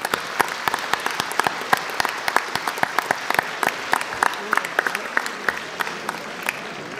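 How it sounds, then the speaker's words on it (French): A room of guests at a seniors' community lunch claps for a birthday gift presentation, with crisp individual hand claps standing out from steady, moderately dense applause and a faint murmur of voices. "je crois qu'on peut l'applaudir"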